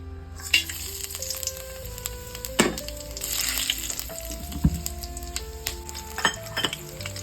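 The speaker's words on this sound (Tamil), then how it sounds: "இப்போது நம்ம ஆயிலில் பட்டை கிராம்பு ஏலக்காய் சோம்பு இதெல்லாம் சேர்த்து நான் வந்து தாளிக்க போகிறேன்" Steady crackling sizzle of cinnamon, cloves, cardamom and fennel frying in hot oil, with occasional sharp clinks and a stir of utensils against the pan, close by.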